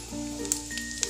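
Cumin seeds dropped into hot oil in a wok, a soft crackling sizzle with a few sharp pops, close and fairly quiet.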